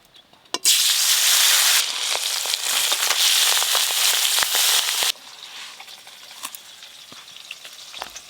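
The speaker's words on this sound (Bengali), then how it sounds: "সর্ষের তেল, ইলিশ মাছগুলো একদম হালকা করে ভাজবো।" Hilsa fish pieces dropped into hot mustard oil: a loud, dense sizzle that bursts in suddenly, roars steadily, then drops to a quieter crackling fry with scattered pops.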